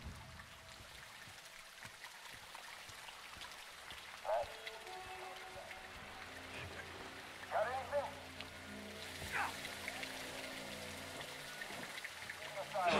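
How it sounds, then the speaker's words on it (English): Heavy rain in the video game Modern Warfare 2, a soft steady patter beneath game effects and brief voice sounds, with occasional louder bursts. "It's raining fucking hard."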